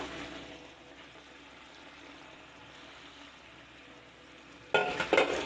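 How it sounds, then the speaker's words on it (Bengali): A pot of boiling curry bubbles and simmers steadily, then fried eggplant pieces drop in with a brief sharp splash and clatter of stirring near the end. "এবার এটাতে আমরা এই ভাজা বেগুনগুলো দিয়ে দেবো।"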